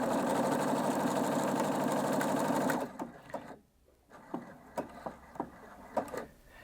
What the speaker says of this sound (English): it will sew the final bar tack